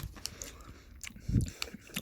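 A few crisp bites and chews on a crunchy, smoky beer snack, close and quiet, in short irregular bursts.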